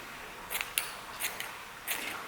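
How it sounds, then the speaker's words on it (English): Scissors trim the edges off the ends of dressmaking fabric: four quiet, crisp snips spaced about half a second apart, close by in an otherwise quiet room. "cut the edges off of the ends of the fabric"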